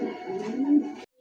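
Cooing from a pair of young pigeons offered for sale. A single close, deep, rolling coo lasts about a second, swells in the middle, then stops abruptly.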